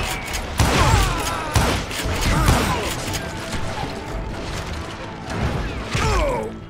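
Gunfire in the Western shooter game Call of Juarez: Gunslinger, with a string of loud, close blasts and crashing impacts over a dense, busy game soundscape.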